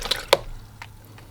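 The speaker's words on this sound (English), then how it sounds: "Okay, and then some splashing." Watercolour paint is flicked and splashed onto paper, giving two or three quick, soft wet spatters close by, with quieter dabs after and no voices.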